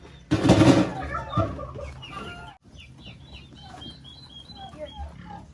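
Soft high peeping from baby turkeys in a pen, scattered chirps over a low barnyard hum, after a louder burst of noise at the start.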